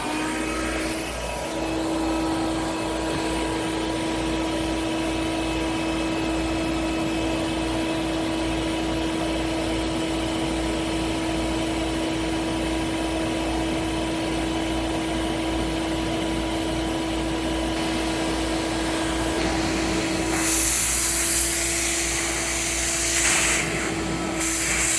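A Hoover Dial A Matic 1136 vacuum cleaner runs steadily with hose suction on high, a loud, continuous motor drone with a constant hum and airy hiss, briefly changing tone near the end.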